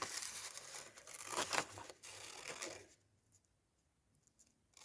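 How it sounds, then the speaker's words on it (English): Scissors cut around a paper window-kit shape, giving a close, continuous crackling rustle of paper for about three seconds before it drops to near silence. "So I'm going to cut this out, cut it round"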